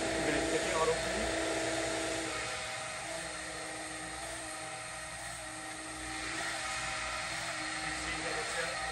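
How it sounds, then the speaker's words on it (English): A HARIG Bridgeport EZ-Surf 618 CNC surface grinder runs steadily on an automatic feed cycle, a continuous broadband whine and hiss holding level throughout with no breaks. "The following video is a HARIG Bridgeport Easy Surf 618 CNC grinder."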